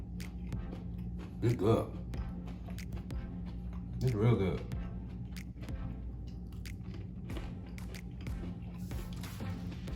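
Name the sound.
crunching while biting fried food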